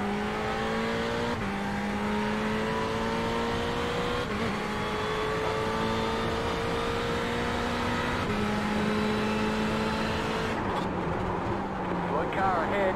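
Ferrari 488 GT3 race car engine in iRacing at Watkins Glen, a loud steady roar rising through the gears with repeated upshifts, other cars passing nearby and commentary voices talking over it throughout.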